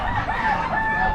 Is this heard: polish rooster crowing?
yes